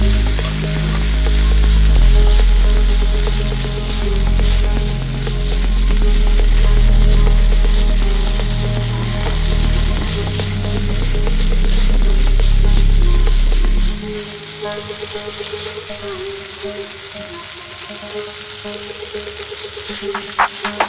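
Drumstick leaf thoran with grated coconut sizzles and fries steadily in a pan, stirred with repeated scraping for most of the stretch, then the heavy low rumble drops away near the end leaving a quieter, softer sizzle.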